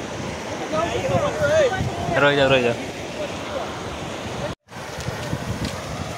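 Floodwater from heavy rainfall rushing over a submerged village road, a constant loud wash of flowing water, while a person speaks over it briefly and the sound cuts out for a moment.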